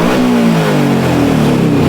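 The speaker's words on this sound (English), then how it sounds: "We'll give her the old rev test." A Kawasaki KFX700 ATV engine revs loud and close, its throaty V-twin roar swelling and holding through a short burst with a slight pitch shift, heard alone with no voices.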